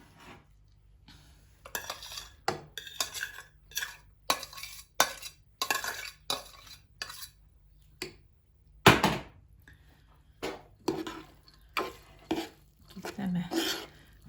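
Lentils, rice and softened onions are stirred in a pan with a utensil, giving close, repeated scrapes and clinks in an uneven rhythm, separated by short quiet pauses.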